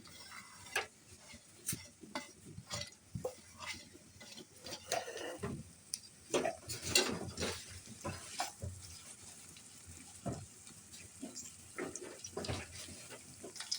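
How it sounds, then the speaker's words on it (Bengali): Chopped onion and garlic frying in hot oil in a wok for a dried loitta fish bhuna, soft sizzling beneath frequent scraping and clattering stir strokes, close but fairly quiet. "এখন মশলাগুলো দিয়ে দিচ্ছে পেঁয়াজ কুচি রসুন কুচি একসাথে দিয়ে দিচ্ছে"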